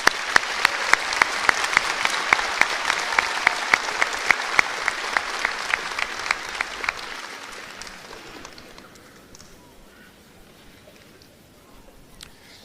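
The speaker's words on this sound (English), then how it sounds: "Let's give these two seniors another round of applause." A high school graduation audience applauds two seniors, sharp claps ringing out loudly at first and then thinning and fading into a quieter hall over the final seconds.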